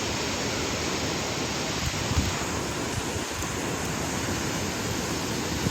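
Small waterfall beside a hiking trail, a steady broadband rush of falling water that holds even and continuous throughout, moderately close, with no voices over it.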